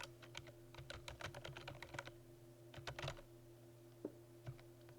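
Rapid bursts of computer keyboard typing, crisp individual key clicks in quick clusters with short pauses, quiet and close against a faint steady electrical hum.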